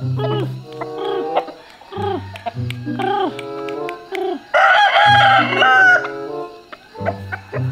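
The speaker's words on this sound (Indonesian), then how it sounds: "ini yang jinak ini semuanya ayamku yang jinak" Tame pet chickens, including a rooster, cluck loudly and close in repeated short phrases, with one long crow rising in the middle before the clucking returns.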